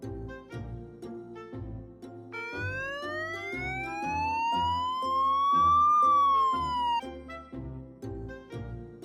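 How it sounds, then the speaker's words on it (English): Police motorcycle siren rising in a long wailing sweep over several seconds, loud and up close, layered over a steady rhythmic music bed. "Police motorcycle."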